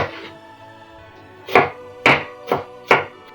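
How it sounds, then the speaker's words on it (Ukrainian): Four sharp knife chops on a cutting board, evenly spaced, close and fairly loud, after a brief quiet stretch, cutting a bell pepper into strips. "Так само перець ріжу соломкою."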